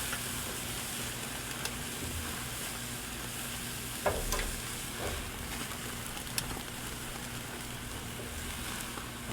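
Jalapenos frying on a Camp Chef flat top grill give a steady, even sizzle at close range, with a couple of brief scraping clatters from stirring, no speech.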